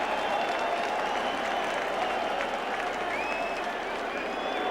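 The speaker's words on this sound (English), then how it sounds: "That applause is for Joe Pisarcik" Steady wash of stadium crowd applause and murmur at a 1981 Philadelphia Eagles versus New York Giants football game, continuous and fairly distant, with no distinct voices standing out.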